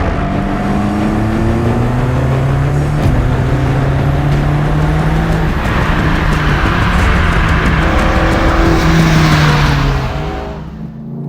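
BMW M5 Competition lapping Bedford Autodrome race circuit, its engine loud and close as it revs and climbs through the gears in rising sweeps, with the tone steady under acceleration before easing off near the end.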